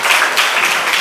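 Audience applause at a World Blood Donation Day event, a steady wash of clapping from a crowd held at an even level throughout, with no voices on top.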